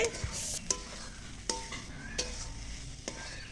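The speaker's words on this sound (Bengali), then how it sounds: "ওই বাটাটা দিয়ে নাড়ি চাড়ি মিষ্টি কুমড়ির সঙ্গে ভালো করে মিশিয়ে নেব" Pumpkin being stirred with a ground paste in a frying pan for a vegetarian ghonto, with soft sizzling and several sharp scrapes and clinks of the spatula against the pan at irregular intervals.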